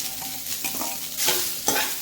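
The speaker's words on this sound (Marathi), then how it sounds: "खोबरं काढल्यानंतर मी हा कांदा भाजून घेते." Onion dry-roasting in a pan for chicken sukka, stirred briskly with a utensil: continuous close scraping and sizzling with a couple of stronger stirring sweeps, no voice.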